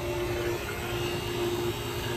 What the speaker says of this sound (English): there's the vacuum pump.